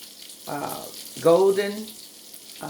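Lemon juice squeezed through a strainer into a bowl while preparing a dressing: short wet trickling and dripping bursts, close and fairly loud, with brief pauses between.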